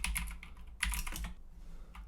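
Quick keystrokes on a computer keyboard tap out a short command in close, crisp bursts with brief pauses between clusters.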